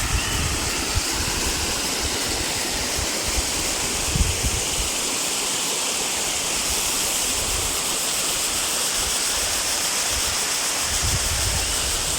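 A waterfall in the Pachamalai hills roars loudly and continuously, a dense, unbroken rush of falling water with no voices over it.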